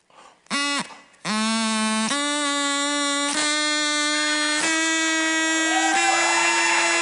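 A homemade straw-like wind instrument buzzes with a steady reedy tone while being cut shorter, its pitch stepping upward in several distinct jumps after a brief first blow, loud and close with no talking.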